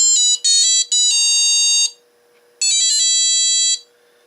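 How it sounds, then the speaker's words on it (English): A Nixie clock alarm plays the Nokia ringtone melody as bright, electronic beeping notes: a short run of tones, a pause, then the phrase repeats, loud and close with a faint steady hum underneath. "And that's the alarm."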